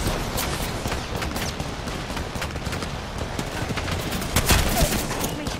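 Rapid gunfire from an opposing team in a multiplayer shooter video game, a dense fusillade of overlapping automatic shots with a louder burst near the end.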